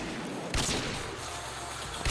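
Rapid gunfire in the video game Roblox, a dense, continuous burst of shots that swells in two brief surges and stays loud and close for the whole couple of seconds.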